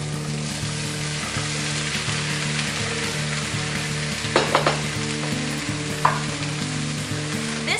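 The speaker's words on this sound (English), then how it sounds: "add in some garlic. Tomatoes and zucchini." Garlic, tomatoes and zucchini sautéing in a pan over medium heat, a continuous close sizzle with an underlying hum and a few sharp clicks of stirring.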